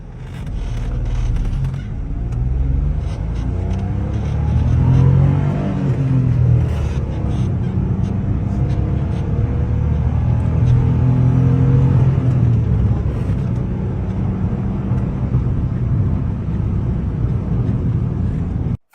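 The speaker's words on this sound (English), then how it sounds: "it's a video of the car driving along the road" A Mitsubishi hatchback drives steadily along a road, its engine rumbling and rising in pitch as it accelerates, with continuous road noise throughout.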